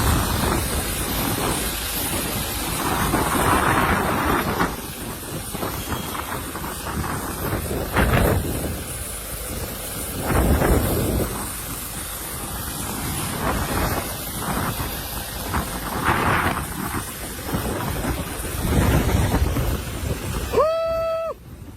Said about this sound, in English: Power's out, and the storm's still raging.